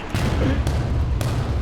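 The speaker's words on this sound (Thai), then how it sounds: "ระเบิด" Explosion in War Thunder infantry mode, heard as a dense, loud rumbling blast with thumps and crackling bursts, continuing under game noise for its whole length.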